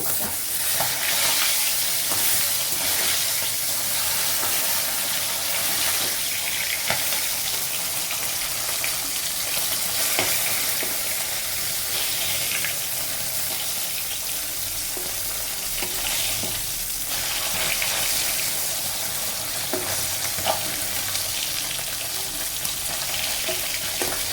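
Small fish fry in hot oil in a home kitchen, giving a continuous loud sizzle with occasional stirring scrapes. The crackle stays even throughout, with no voices.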